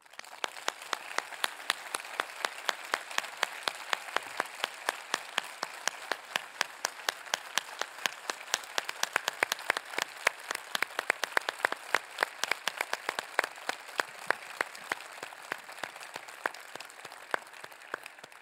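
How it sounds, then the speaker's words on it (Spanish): Sustained audience applause at the end of a talk at the RootedCON 2018 security conference, many hands clapping in a dense, even patter with sharper individual claps, moderately loud and continuous throughout. "el aplauso de este año va para ellos, no va para mí"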